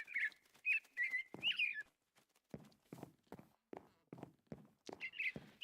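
A robin chirps in a video game, bright whistled calls in a few short phrases, over a steady run of soft thudding footsteps, fairly close and clear, no talking.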